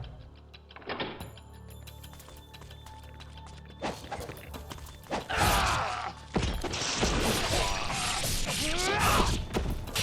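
A lever mechanism being held down in Ninja Gaiden Sigma, with repeated mechanical creaks and thumps and then a sustained, loud grinding rumble of machinery that carries on to the end.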